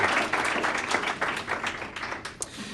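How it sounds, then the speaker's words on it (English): An audience claps for a speaker at a community business event, a dense burst of many hands that thins out toward the end. "Let's give Jerry a round of applause"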